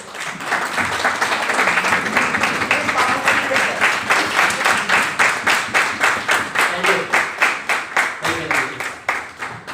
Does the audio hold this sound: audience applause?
yes